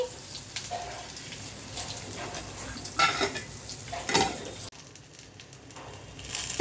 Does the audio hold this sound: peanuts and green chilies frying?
yes